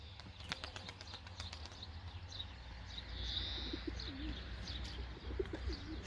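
Tumbler pigeons coo softly in the background at a morning flying session, with a few low rolling coos near the end over a steady ambient hum and scattered faint chirps.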